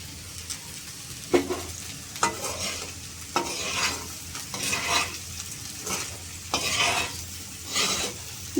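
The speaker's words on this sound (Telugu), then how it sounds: "అలా వేపేసుకుంటే సరిపోయిద్ది" Sliced okra fries in a little oil with salt in a pan, giving a steady soft sizzle. A spoon scrapes through it in repeated stirring strokes, close by and with no talking.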